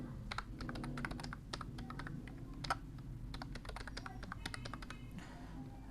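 Keys on a computer keyboard clatter in quick irregular bursts while an email address is typed, close and steady over a low background hum, with short pauses between runs of keystrokes.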